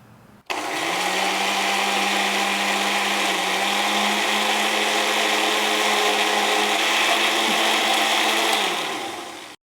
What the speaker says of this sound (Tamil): ஓகே, மிக்ஸியில் போட்டு அரைச்சிடலாமா?